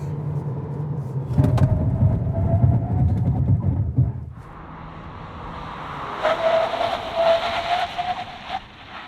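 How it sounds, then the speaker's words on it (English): A 2025 Kia K4 braking hard from 100 km/h, heard from inside as a loud low road-and-engine rumble that cuts away after about four seconds, leaving quieter hiss and a rising whine with rattles as the car settles, with no talking. "let's see how quick it stops from 100. See what the brake and tyre package is like"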